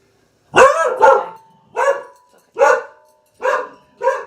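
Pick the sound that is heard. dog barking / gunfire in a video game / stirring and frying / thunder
dog barking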